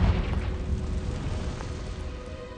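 A Confringo fire spell from Hogwarts Legacy detonates in a deep, rumbling blast that rolls on as a steady low roar for a couple of seconds, loud and close with no talk.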